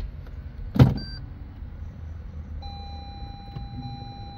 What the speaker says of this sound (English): given the car a cold start.